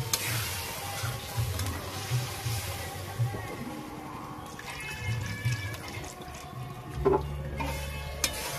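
Water poured into potatoes being braised in a pan for a potato and drumstick curry, a steady liquid splash and sizzle close by, with a louder burst of pouring near the end.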